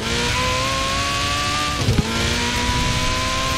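A Ferrari Pista engine in the racing game Forza Horizon 4 drones at high, steady revs, dips briefly during a gear change, then climbs again, loud and close with no talk.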